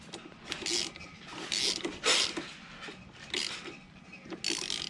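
The stiff crank of a Kawasaki KX80 engine is turned by hand with oil added, making a series of close ratcheting, grinding mechanical bursts in uneven rhythm, separated by quieter gaps.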